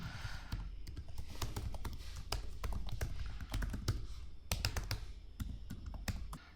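Someone types an email and password on a computer keyboard, a steady stream of close, crisp key clicks with irregular rhythm and brief pauses, heard alone without talk.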